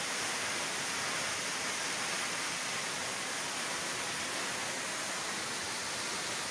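Dense, constant roar of the Cascata do Herval waterfall in Santa Maria do Herval, Brazil, heard from right beneath it, fills the whole clip, a broad steady rush with no voices.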